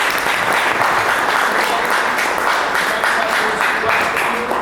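Sustained audience applause closing a 2020 lecture by Edward Amdur, a dense steady wash of many hands clapping at even loudness throughout, fairly close and with no one speaking over it.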